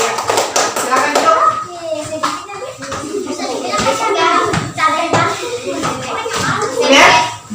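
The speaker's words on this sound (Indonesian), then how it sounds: "Tepuk tangan dulu kelompok" Students in a classroom applaud a group, with rhythmic hand clapping mixed with children's voices and chatter throughout, close and fairly loud.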